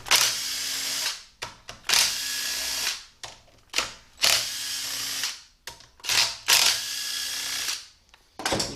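A power tool spins out inverted Torx Plus bolts on a 6L80-E transmission, giving about eight close, loud whirring bursts of a second or so each, separated by brief gaps.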